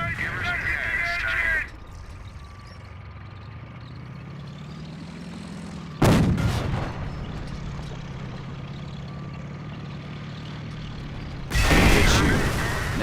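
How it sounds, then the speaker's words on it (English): In the World War II strategy game Company of Heroes, a German Panzer tank's cannon fires, heard as sharp, loud blasts at the start, midway and near the end over a steady rumbling engine and battlefield drone. "That shot from the Panzer scored a critical hit and has immobilized your tank."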